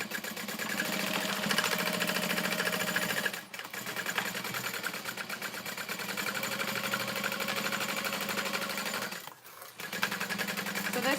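A sewing machine runs steadily, stitching binding on a long stitch length in a continuous mechanical whir, with two brief pauses where the motor stops before resuming.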